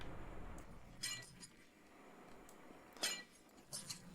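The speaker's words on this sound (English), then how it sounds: "I like they sound like glass, all these cables." Glassy clinking from cables in the modded Minecraft video game, a few separate bright chinks and tinkles, including a short double near the end, over a low background hum with no talk.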